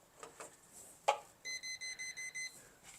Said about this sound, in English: since it's beeping, it is working and it will detect electricity